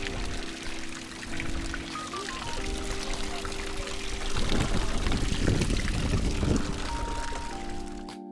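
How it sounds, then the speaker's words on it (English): City fountain in Ljubljana, with a continuous pouring, splashing water rush that swells in the second half, faint voices nearby and background tones drifting through. "We stopped at one of the city's beautiful fountains for a few photos."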